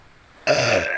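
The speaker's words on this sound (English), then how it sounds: "see, burping out." A single loud, close burp made by gulping down air, a sudden rough eructation lasting about half a second after a quiet moment.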